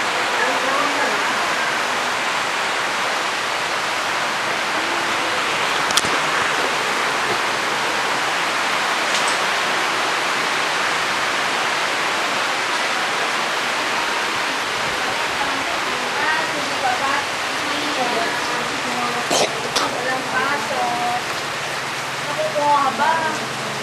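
Steady rain pours down in a continuous broadband hiss, with faint chirps and occasional sharper taps over the wash of water.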